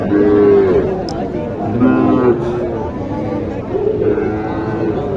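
A Sahiwal cow moos in low, drawn-out calls at a cattle market in Naogaon, Bangladesh, with people talking throughout and partly over the lowing.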